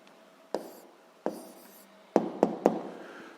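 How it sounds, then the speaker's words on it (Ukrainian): Hand-writing an answer to a school physics problem, likely pen on paper: soft scratchy strokes broken by several crisp taps and short scribbles, close and quiet, with no talk over it. "Гаразд, записуємо відповідь, пишемо відповідь."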